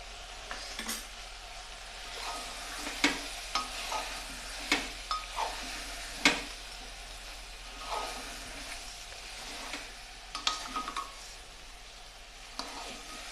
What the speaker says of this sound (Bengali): আমার কষা কমপ্লিট দিয়ে দিচ্ছি আমি এক টেবিল চামচ বাটার